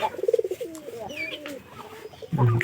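A pigeon coos nearby in a series of soft, low, rolling calls, with faint background noise and a brief rustle at the end.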